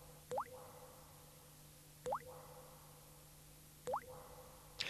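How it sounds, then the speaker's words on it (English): Water drips from a tap in three single drops, evenly spaced about two seconds apart, each a clear close plop with a rising ring over a quiet room hum. "It's only water dripping from a tap"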